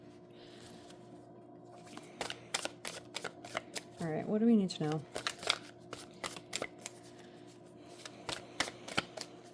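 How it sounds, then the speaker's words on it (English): A deck of tarot cards is riffled and bridged once in a quick burst, surrounded by scattered taps and handling clicks while a person talks briefly. "One more shuffle."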